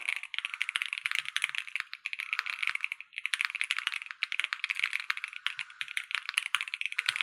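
Rapid typing on an ROG Azoth Extreme mechanical keyboard, a dense run of crisp, close key clicks and clacks with a brief pause partway through.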